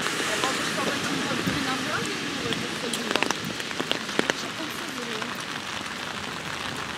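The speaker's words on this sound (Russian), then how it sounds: "Здесь тоже начинается дождь." Steady rain falling in Stupino, a constant close hiss of drops on surfaces with a few louder nearby splats and drips.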